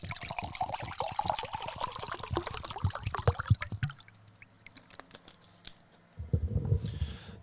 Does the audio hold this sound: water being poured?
yes